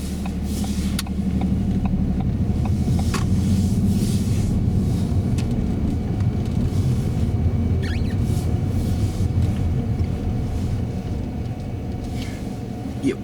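A car on a driving lesson turns right and pulls up around a corner at a T junction, its engine rumbling steadily and fairly loud from inside the cabin, with no talk.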